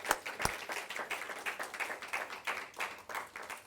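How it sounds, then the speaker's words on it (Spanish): Applause in a church service, a smaller group clapping in an uneven rhythm with a couple of sharp, close claps at the start, fairly quiet throughout. "Démosle un fuerte aplauso al Señor."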